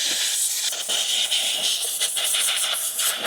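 Compressed air blasts hard and steady close by, blowing debris out of a part on a Citroën Berlingo van, a loud continuous hiss with slight wavering across the whole stretch.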